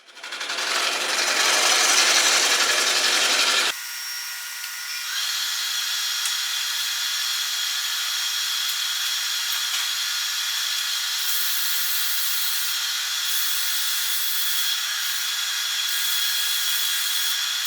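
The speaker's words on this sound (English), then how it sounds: "now he's cutting off the sapwood, which this is going to now be the bottom of the bowl" A woodturning tool cuts sapwood from the base of a large walnut bowl on a lathe, a harsh scraping burst at first, then a steady, continuous whirring hiss that persists throughout.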